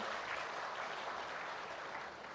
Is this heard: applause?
yes